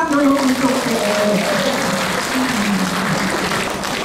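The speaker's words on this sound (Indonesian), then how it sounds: "Tepuk tangan dulu untuk PGI." Applause at a church council's 58th anniversary celebration in Jakarta fills the room as a steady wash of clapping, with a sustained tone running underneath.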